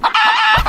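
A chicken in the video game Orc Island gives a short, loud, close squawking cluck, one brief burst lasting under a second.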